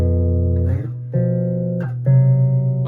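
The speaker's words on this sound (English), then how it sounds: "instead of playing a normal 5, I'm playing a flat 5." Bass guitar chord progression built on flat-fifth power chords in the Locrian mode, three or four sustained chords plucked in turn, each ringing for most of a second, close and clear with no talking.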